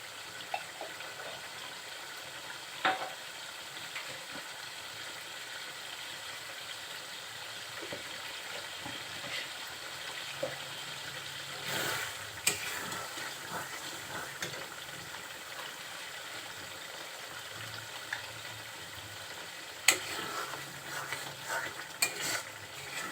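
Tripe fries with spices in a pan while it is stirred, a soft steady sizzle broken by occasional scraping and clinking of the spoon against the pan over a long, quiet stretch, with no talking.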